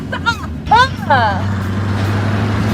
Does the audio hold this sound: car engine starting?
yes